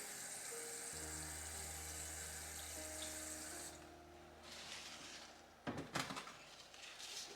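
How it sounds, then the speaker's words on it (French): A thin stream of water poured onto potting soil while repotting houseplants: a soft, steady trickle that fades partway through, then brief louder splashes and knocks near the end. "je viens avec un petit filet arroser mon terreau"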